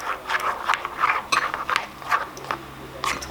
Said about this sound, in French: maintenant, mélange cette mixture avec une cuillère